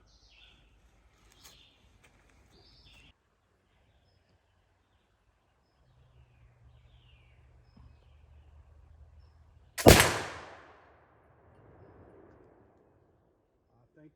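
A single sharp, loud crack from a Lyman flintlock rifle fired at a black bear target in the woods, with a brief decaying tail after quiet moments of faint movement.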